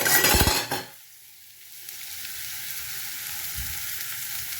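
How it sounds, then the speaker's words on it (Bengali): Fried bottle gourd peels with jaggery powder and chopped coriander get stirred in a pan: a loud burst of sizzling and scraping opens, then settles into a faint steady hiss with no one speaking. "এবার ভালো করে নাড়াচাড়া করে নেব"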